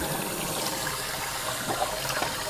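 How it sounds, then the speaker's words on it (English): Tap water runs steadily into a sink during darkroom-free film developing with a daylight tank, a continuous close hiss and splash with no voices. "Let's get some water running."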